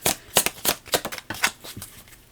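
A deck of cards is riffle-shuffled in a quick, crisp series of about a dozen rhythmic flicks and rustles, close to the microphone, with no talking.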